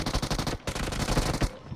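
Automatic gunfire in the mobile battle royale game BGMI: two loud rapid bursts separated by a short gap, then a fading tail, with no voices.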